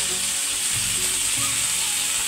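Hot oil sizzles steadily as ground turmeric goes into the pan for a Bengali cauliflower-stalk dish with slit green chillies, a continuous close frying hiss with a few low stirring bumps, no talk.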